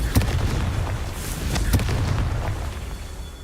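Confringo fire spell from Hogwarts Legacy bursting twice as booming explosions, one near the start and another about halfway, over a steady rumbling game backdrop.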